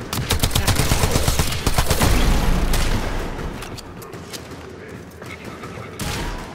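Continuous rapid gunfire in the Warframe video game, dense automatic bursts blending into a loud roar that eases off, with a player talking over it.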